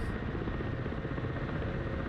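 Helicopter flight in the Black Shark 2 simulator game: a steady, loud rotor and turbine roar with constant broadband thump, unbroken throughout, no talk.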